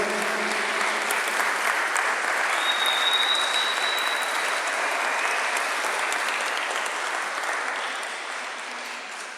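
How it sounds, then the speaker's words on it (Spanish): A church congregation applauds one another, a broad, even wash of clapping that holds steady for several seconds before gradually tapering off. "dense un aplauso entre todos acá, porque todos vinieron"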